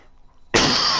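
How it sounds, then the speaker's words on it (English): A single harsh cough bursts out loud and close after a quiet moment, its rasp holding to the end. "Oh man, I'm coughing."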